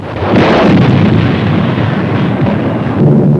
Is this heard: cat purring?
no